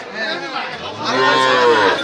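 A cow moos loudly and close by at Oronkola rural cattle market for bulls and calves in Ishwardi, Pabna, with one long drawn-out low call and faint chatter in the background.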